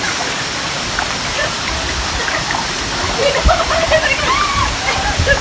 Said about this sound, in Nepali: यहाँनिर चाहिँ विष्णुद्वारमा चाहिँ झर्ना रहेछ